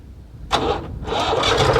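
A tractor engine cranks and catches at once, settling into a steady, loud mechanical rumble with rising higher-pitched roar, close by.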